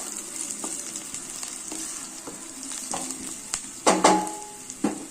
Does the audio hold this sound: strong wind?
no